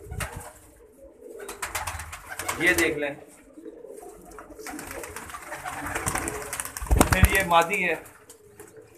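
Pigeons coo in a loft, among them a green-coloured bird wearing a pink ring on one leg, with wing flaps and bird calls mixed in while someone talks over them at close range.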